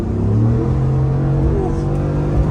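Loud Ford F150 with a 5.0 engine revving while driving in noon traffic, a dense, steady low engine roar with a sustained droning tone, heard from inside the truck and continuous throughout.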